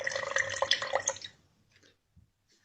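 Cooking oil is poured in a short glugging stream for about a second, then stops, leaving a few faint drips nearby.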